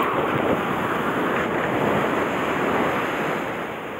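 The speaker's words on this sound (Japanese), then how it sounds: "波出てきたね。" Surf waves breaking steadily on a sandy beach during lure fishing, a continuous loud wash of rolling water with wind noise across the microphone, easing slightly toward the end.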